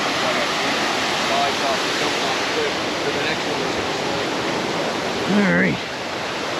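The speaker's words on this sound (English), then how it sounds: "So nice with so much water running down." Water pours down a waterfall in a steady, loud, close roar of rushing noise that lasts throughout. Someone speaks briefly over it.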